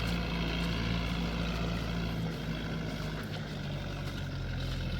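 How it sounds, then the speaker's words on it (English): A tractor engine runs in a muddy hay field, giving a loud, steady droning rumble that holds close and even throughout, with no talking. "I'll let you go once the tractor stops."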